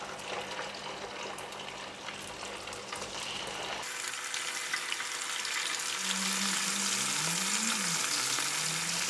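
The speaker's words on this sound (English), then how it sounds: "Next, we're going to fry the fish." Fish deep fries in oil for a ginger stir-fry dish: a broad hiss that jumps louder and stays steady partway through, with a faint wavering whistle-like tone underneath.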